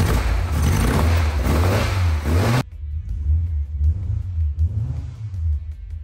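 A Corvette engine fires up and revs, a loud, rumbling roar that suddenly drops to a lower, uneven idle with occasional swells.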